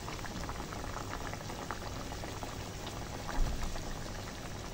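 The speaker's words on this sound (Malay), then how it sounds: "Dah mendidih." A pot of spiced curry with potatoes boils steadily, with continuous close bubbling and popping at an even level and no voices.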